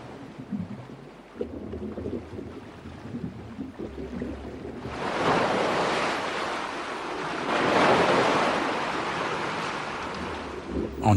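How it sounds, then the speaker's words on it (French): Powerful winter waves crash against the coast and drag sand away, with a low rumbling wash that swells into two loud surging breaks, then recedes under steady wind noise. "Des vagues plus puissantes frappent la côte et emportent le sable"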